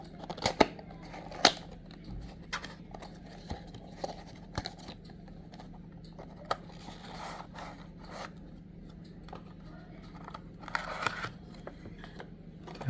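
Unboxing a Tomica Lamborghini Huracan Performante toy car box: soft cardboard scrapes, tearing and clicky handling noises come in scattered bursts, fairly quiet and close, with no talking.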